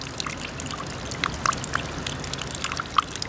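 Rainwater running off a roof drips and trickles onto lying snow during a late-winter thaw, a steady faint patter of scattered drops with a few sharper splashes, no voices.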